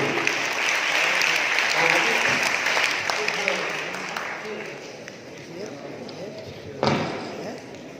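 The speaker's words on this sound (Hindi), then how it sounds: "जोरदार तालियां" An audience at a naat competition claps loudly for a prize-winning child, dense applause that slowly tapers off, followed by a few scattered claps and a sharp thump near the end.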